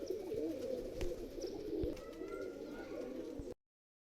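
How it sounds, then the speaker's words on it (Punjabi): Pigeons coo in a low, steady rolling murmur over several seconds, with a few soft bird calls and light clicks mixed in, fairly close and alone without talk. "ਤੁਹਾਨੂੰ ਮੈਂ ਹੋਰ ਦਿਖਾਉਣਾ ਕਬੂਤਰ"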